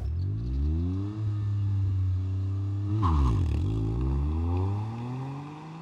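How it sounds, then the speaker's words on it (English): A Toyota GR Corolla launches hard from a standstill with traction control off, its engine revving loud and rising through the gears with a brief dip at each shift, close and clear with no talking. "Let's launch the Corolla."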